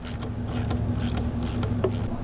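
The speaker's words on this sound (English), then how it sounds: "Then you loosen up the 2 bolts that hold the resonator in place." Bolts holding the resonator are loosened on a 2007 Chevy Trailblazer, giving repeated ratchet clicks and short metallic mechanism sounds close by, over a steady low hum, with no talking.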